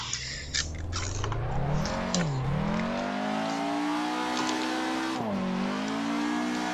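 Car engine revving hard in second gear with tires squealing while drifting in the Assetto Corsa racing game, a steady loud engine drone with pitch sweeps as the throttle is held flat.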